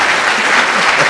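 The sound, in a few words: applause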